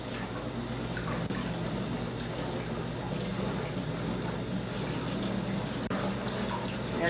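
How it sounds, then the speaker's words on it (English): Lukewarm water runs steadily from a tap over a screen-printed t-shirt while the print is rinsed out, a continuous close splashing rush with no voices. "And I have lukewarm water running over this."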